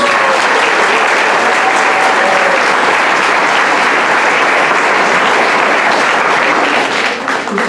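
A church congregation claps in loud, sustained applause during a Sunday service welcome, a dense continuous wash of hands that tapers slightly at the very end.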